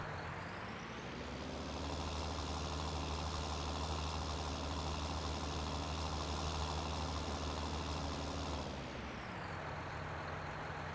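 A heavily modified tractor in Farming Simulator 19 labours up a steep slope, its engine holding a loud, steady low drone with rumbling harmonics that drops off near the end, alone with no talking.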